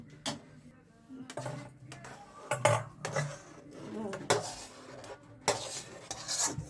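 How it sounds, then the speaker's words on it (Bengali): Semolina pudding flavoured with crushed cardamom is scraped from a pan into a bowl with a spoon. You hear intermittent clinks and metallic scrapes of utensil on cookware, close and moderately loud, in uneven bursts. "আমি এবার সুজিটা বাটিতে ঢেলে রেখে দিলাম।"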